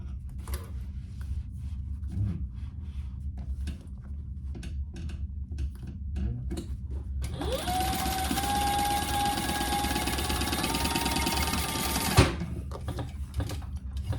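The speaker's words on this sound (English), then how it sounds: "we're gonna baste those in place" A sewing machine bastes handbag pieces with a short 1/8 inch stitch, whirring steadily for about five seconds after quiet handling and shuffling sounds of fabric.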